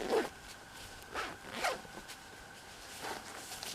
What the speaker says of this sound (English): You unzip the foot box all the way open.